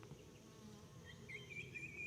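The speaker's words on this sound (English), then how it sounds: "I've got a bee here." A single bee buzzes nearby outdoors, a soft wavering drone faintly audible over quiet background hum, with no talking.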